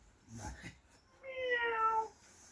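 A person speaks briefly, then a cat gives one long, drawn-out meow, fairly close and clear.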